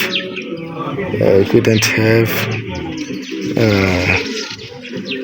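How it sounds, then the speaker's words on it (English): Birds chirping by the beach of Lake Tanganyika in Bujumbura, with light tweets and calls mixed under steady nearby talking. "look at those birds!"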